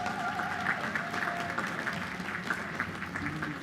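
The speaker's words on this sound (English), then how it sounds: "Please give all of these honorees another round of applause." A commencement crowd at a college graduation ceremony applauds scholarship honorees, sustained even clapping from a large audience, somewhat distant and soft, with no speech over it.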